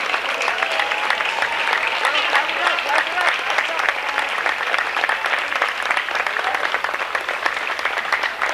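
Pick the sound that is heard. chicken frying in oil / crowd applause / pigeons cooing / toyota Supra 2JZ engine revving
crowd applause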